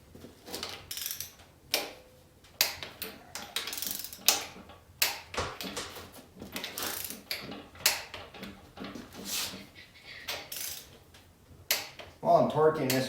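Torque wrench ratcheting on the engine top end of a 1973 Chevelle SS 454 with a Muncie 4-speed, a long series of close, irregular clicking ratchet strokes with a voice speaking briefly between them.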